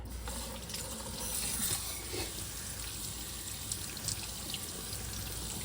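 Running water splashes steadily as a straight razor from Thiers Issard and a vintage Charnley Forest hone are rinsed, a continuous close tap-like rush with small clinks over it.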